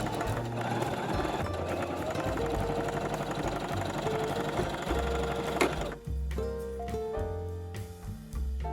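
A sewing machine stitches the center back seam of elastic waist shorts, a close, fast steady mechanical whirring rattle for about six seconds before stopping, followed by quieter handling sounds.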